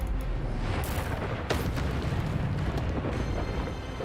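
Expelliarmus spell blasts in Hogwarts Legacy, a dense rumbling roar with a few sharp bursts cracking through the noise.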